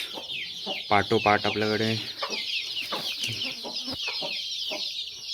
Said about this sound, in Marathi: हे ऑलमोस्ट ऑल 1 महिन्याचे पिल्ले झालेले आहेत